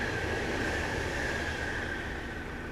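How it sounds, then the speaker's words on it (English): A train rolls steadily past a canal-side spot, a continuous loud rumble with a sustained metallic tone running throughout, no voices. "There's another train."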